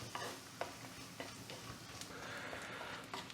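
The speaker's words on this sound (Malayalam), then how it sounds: "ഇനി നമ്മൾ ലോ ഫ്ലെയിമിൽ ഈ പൊടികളുടെ പച്ചമണം ഒന്ന് മാറുന്നവരെ ഇളക്കി കൊടുക്കുക കേട്ടോ" Soft scraping and stirring of spice powders in a pan over a low flame, with a faint background sizzle and a few sharp utensil taps at irregular intervals, the squid not yet added.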